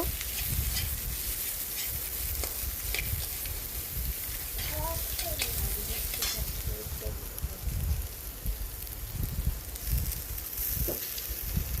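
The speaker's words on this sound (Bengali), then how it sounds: "এরপর দিয়ে দেব কুচনো পেঁয়াজ পেঁয়াজটা একটু লাল লাল করে ভেজে নেব" Chopped onion fries in oil in a pan for a bhola fish curry, giving a steady, dense sizzling hiss throughout, with a faint voice briefly audible beneath it.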